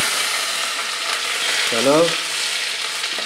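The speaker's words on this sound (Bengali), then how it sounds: "আমাদের এই জিরা তেজপাতা দিয়ে ফোড়ন দেওয়া হচ্ছে। এখন চলে যাবে হলো টমেটো।" Tomatoes frying in oil with cumin and bay leaf, a steady loud sizzle that runs throughout, while a voice speaks briefly over it midway.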